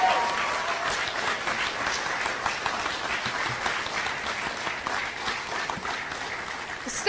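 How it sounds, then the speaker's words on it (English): A crowd applauds new NCAA collegiate softball players at a signing day event, sustained, even clapping from many hands that carries through to the end. "a round of applause for these new NCAA collegiate softball players"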